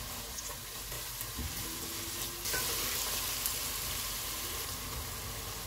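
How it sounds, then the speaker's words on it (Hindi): Onions frying with ginger-garlic paste for Sindhi biryani sizzle steadily and close, with stirring scrapes, then grow louder and brighter halfway through as the mix hisses harder. "प्याज फ्राई हो गए, इनमें अदरक और लहसुन का पेस्ट डालेंगे,"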